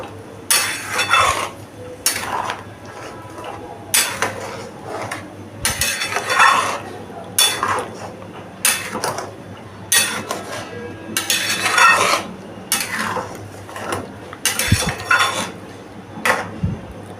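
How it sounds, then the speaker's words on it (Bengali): A spoon stirs dum aloo curry in a pot, producing repeated bursts of scraping and clinking against the metal in an uneven rhythm, close and fairly loud, separated by short quiet gaps. "এটাকে আমি ভালো করে আবার নাড়িয়ে নিচ্ছি"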